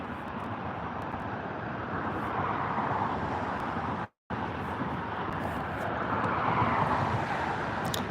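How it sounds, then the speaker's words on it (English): EasyJet Airbus A320 arriving from Bordeaux on two-mile final at Gatwick, a steady broadband jet roar with a slight rise and fall, fairly distant and buffeted by wind, briefly cutting out midway. "I've got the EasyJet 320 from Bordeaux. It's 2-mile final"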